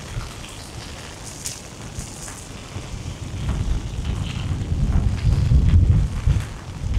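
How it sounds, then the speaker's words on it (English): Gusty wind buffeting close by during a wet-season rain in Da Nang, building into heavier low roaring blasts with a faint hiss of rain underneath. "You can actually feel the wind blowing me."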